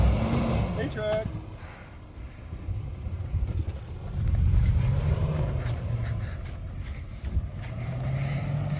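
Lexus GX470 SUV driving off-road on sand: a continuous engine rumble with varying road and suspension noise, fairly close and loud, with people talking over it.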